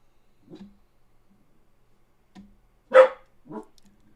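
A long-haired dachshund barks indoors: a few soft, scattered yips, then one louder sharp bark followed by a shorter one, with quiet gaps between them.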